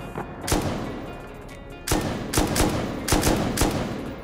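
Gunfire in the modded online survival game Rust, several loud close shots in quick bursts over a constant background of game ambience, with no talk.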